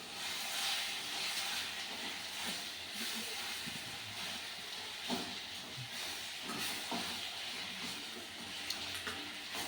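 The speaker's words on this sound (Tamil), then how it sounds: "4 தக்காளி நறுக்கிய தக்காளி சேர்க்கப்படுகிறது." Four chopped tomatoes hit a hot pan and sizzle with a soft, steady hiss, punctuated by a few brief crackles and pops.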